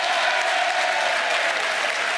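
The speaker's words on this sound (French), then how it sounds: "Je vous demande de l'applaudir très très fort." A crowd applauds strongly at a French comedy night in Pigalle, a thick, steady roar of clapping hands, loud and unbroken for the whole stretch.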